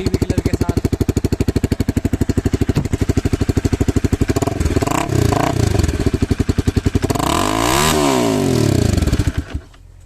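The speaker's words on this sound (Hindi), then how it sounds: "DB किलर के साथ तो कुछ इस तरीके की आवाज़ है इस तरीके की आवाज़ आती है DB किलर के साथ।" A Honda CBR 250 motorcycle exhaust fitted with a dB killer idles close by in a rapid, even putter, then is revved in two rising, roaring blips before settling back and cutting off.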